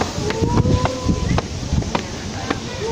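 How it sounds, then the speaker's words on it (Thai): Strong wind buffets the microphone in gusty, roaring bursts, with voices talking intermittently underneath. "ลมแรงมากเลย"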